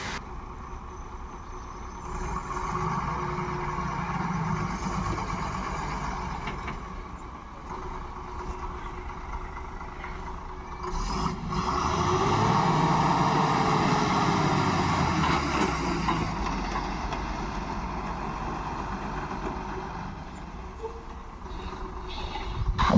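A heavy, overloaded old truck engine labors and rumbles steadily throughout at night on a road, with a rising drone midway and faint squealing of failing brakes, no talking.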